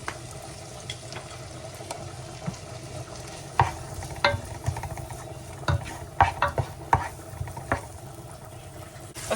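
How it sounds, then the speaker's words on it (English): Vegetables sauté in butter in a pot with a continuous soft sizzle, while a spoon scrapes and knocks against the pot in irregular close strokes. "I'm just going to saute my vegetables for about 2 minutes"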